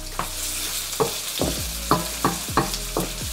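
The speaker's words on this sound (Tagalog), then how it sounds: "inuuna ko ang sibuyas sa paggigisa" Onions sauté in a hot pan for a Pinoy-style spaghetti sauce. A bright, steady sizzle is broken by about eight regular, rhythmic scrapes of a spatula stirring against the pan. No voices are heard.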